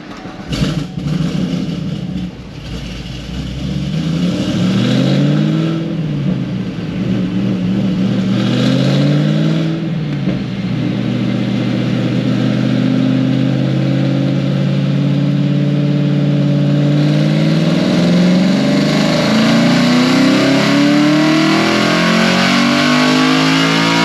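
A modified LS7-powered Z28 Camaro on a dyno, the V8 building from idle into a long wide-open pull, revving hard with rising and falling tones before holding a loud sustained roar near the limiter.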